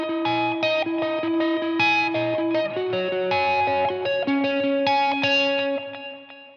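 Electric guitar played through a Boss RV3 delay and reverb pedal, picking a melodic line of distinct notes with a mildly driven tone and subtle echo trails behind each note, loud and close, fading out at the end with no talking.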